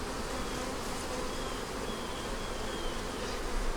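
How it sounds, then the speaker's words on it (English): Honey bees buzz steadily around an open hive on a hot afternoon, a dense, continuous hum at close range with no pauses and no voices. "You see how calm my bees are?"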